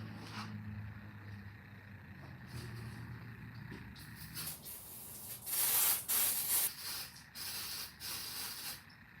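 Brake cleaner sprays onto a snow blower part in a workshop, a bright hissing in several bursts, with some rubbing and shuffling noises between them.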